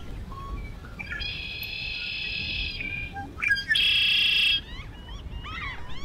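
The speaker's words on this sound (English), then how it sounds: "These tree swallows were catching bugs in just a light breeze." Tree swallows out in the open on a day with a light breeze, giving a few bright, buzzy chirps and trills at moderate distance. Faint wind noise sits under the calls, and there is no talking.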